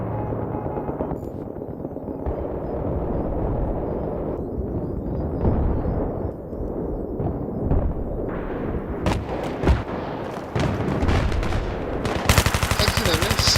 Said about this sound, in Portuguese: É tiro que a gente nem vê de onde vem.